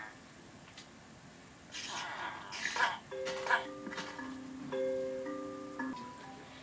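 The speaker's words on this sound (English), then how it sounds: "They've added villager noises." Minecraft villagers in the video game, giving short nasal grunting "hmm" calls, several in a row with brief pauses, set against a faint steady background.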